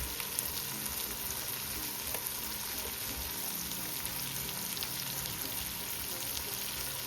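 Tomato paste frying in a pot for Jamaican brown stew beef, a steady close crackling sizzle that runs without a break, with no voices.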